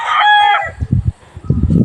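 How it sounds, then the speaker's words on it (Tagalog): A four-month-old young rooster lets out a loud, close crow, followed by a short run of low clucking and scuffling sounds near the end. "Ito ay 4 months pa lang po itong manok na to."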